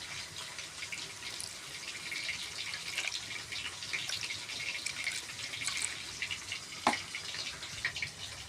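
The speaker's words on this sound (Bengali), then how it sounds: "তারপর দিয়ে দেব এখানে জল।" Water poured into a pan of spices for a rohu fish curry, a faint continuous splashing and trickle with a few small clinks, heard alone.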